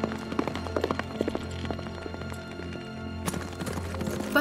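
A horse gallops with rapid, rhythmic hoofbeats, clip-clopping steadily and growing louder toward the end.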